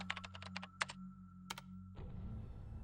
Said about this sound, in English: Kunosato tapped at the keyboard and the screen changed.